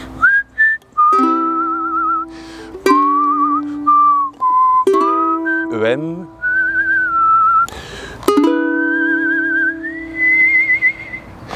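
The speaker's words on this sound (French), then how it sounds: "Comme ça pour ceux qui ont vraiment envie de siffler le solo." Melodic whistling of a harmonica-style tune, steady sustained notes with quick trills and slides, loud and close, with short pauses between phrases.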